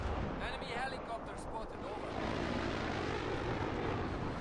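Jet aircraft in a military video game roar loudly with a broad, rushing engine noise that swells and holds, under excited talk from players.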